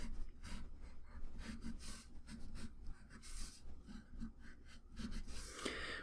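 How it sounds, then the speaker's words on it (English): A pencil sketches a character drawing on paper, with quiet, close scratchy strokes in quick irregular bursts and brief pauses between them. "So if I just finish drawing this character real quick."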